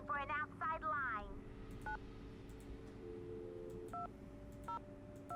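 Telephone keypad dialing tones in a Nancy Drew video game: several short tone beeps spaced irregularly over a steady line hum, with a voice speaking at the start.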